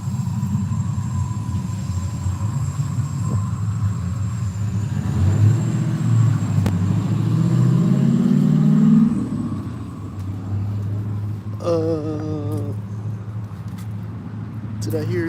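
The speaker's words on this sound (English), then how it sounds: "There's a car driving by the back of this white SUV that's turned on." A car drives past behind a parked white SUV with its engine running, a loud rumbling swell that peaks and fades, with brief rattling noises near the end.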